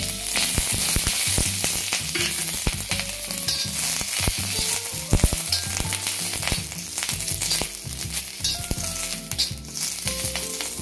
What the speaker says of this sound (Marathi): आता आपण वाटणसाठी मिरची कांदा भाजून घेऊया तव्यावर